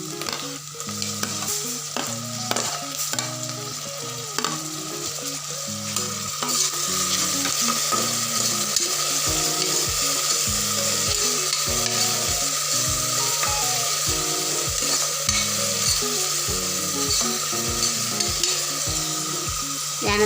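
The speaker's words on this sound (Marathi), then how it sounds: "आणि कांदा थोडा आपला तळला की आपण यात टाकणार आहोत" Onion fries with curry leaves in a pan for mixed-vegetable khatkhate, a continuous bright sizzle with repeated scraping stirs, heard close under steady background music, with no talk.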